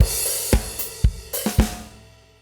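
Drum groove with an extra snare hit, a short pattern of sharp, close snare and kick strikes, five or so punchy hits in quick succession before ringing out and fading.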